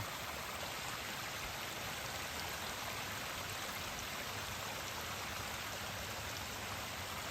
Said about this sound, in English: I thought I'd show you this beautiful waterfall